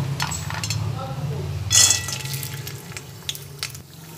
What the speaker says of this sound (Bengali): তেল দিয়ে কিছুটা বড়ি ভেজে নেব।